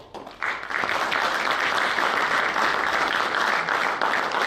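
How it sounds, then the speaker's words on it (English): Big round of applause from an audience at the AGROVON 2k23 college event, a dense, steady wash of many hands clapping that swells in after a brief quieter moment and holds loud throughout. "So I want to hear once again a big round of applause"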